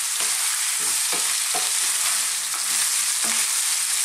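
Potato pieces fry in a pan over high heat, a steady loud sizzle running throughout while a spoon or spatula stirs them in several distinct scraping knocks.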